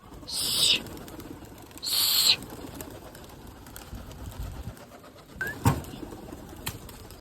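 Domestic pigeons are released to fly. Two loud bursts of wing flutter come near the start, followed by softer bird sounds and a brief sharp call further on, against quiet outdoor background.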